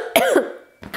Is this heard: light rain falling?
no